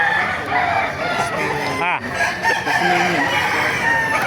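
A rooster crows loudly nearby while hens cluck around it at a chicken market, with a voice talking in the background.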